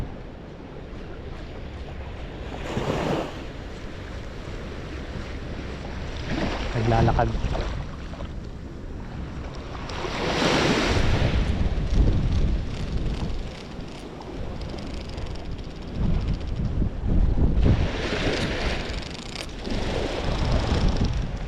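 Strong wind and waves at a shore by a sheltering wall, a continuous roar of gusts and surf that swells and fades in several broad surges, with people talking at times.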